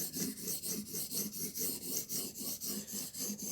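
A knife blade being re-profiled on a TSPROF Blitz 360 sharpener, a steady rhythmic rasp of sharpening strokes, about four per second, close and fairly quiet, with no voices.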